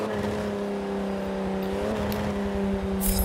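A Porsche 911 Turbo S engine in Forza Motorsport 7 at Bathurst, holding a steady droning tone with slight pitch wobbles, close and continuous with no talk.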